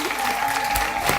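An audience claps in a brief burst of applause at a stage show, dense and continuous with a faint steady tone underneath.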